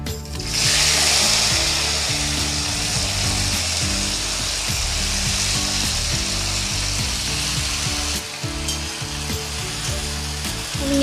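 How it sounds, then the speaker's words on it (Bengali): Washed jujube fruits go into hot oil with panch phoron for a sweet jujube pickle and are stirred. A loud, continuous sizzle runs throughout with a low steady hum beneath, briefly dipping partway through. "এবার আমি ধুয়ে রাখা ফুলগুলো এর মধ্যে দিয়ে ভালো করে নেড়ে ছেড়ে নেবো"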